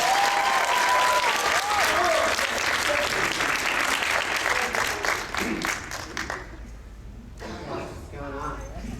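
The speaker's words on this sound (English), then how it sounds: "Give her a round of applause." Live audience at an anime convention acting lesson claps in a sustained round of applause, loud and dense, thinning out after a few seconds with a voice and scattered noise at the end.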